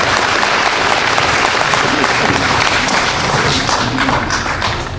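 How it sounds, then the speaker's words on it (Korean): A rally crowd gathered in the rain and wind in Incheon claps loudly and densely, a sustained wall of applause that tapers slightly near the end, with voices faintly mixed in. "큰 박수 부탁드리겠습니다"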